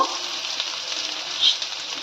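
Chopped potatoes fry in a pan with a loud, close, continuous sizzle. There is no talking, and a brief faint clink comes partway through.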